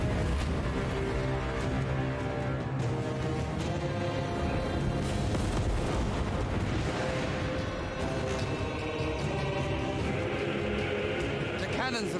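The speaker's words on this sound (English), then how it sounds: "The cannons rain death." Cannon fire booms repeatedly through a dense video game battle soundscape, a continuous loud wash of explosions and rumbling combat.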